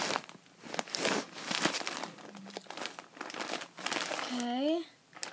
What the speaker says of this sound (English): crumbled paper bedding.